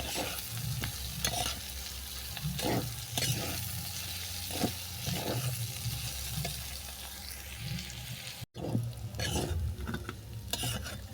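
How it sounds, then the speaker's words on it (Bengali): Potatoes and onions with chopped onion and dried coriander sizzle steadily in a pan, a continuous frying hiss broken by repeated scraping stirs, close and fairly loud, with no talking. "আরও কিছুক্ষণ এটাকে আমি ভেজে নেব।"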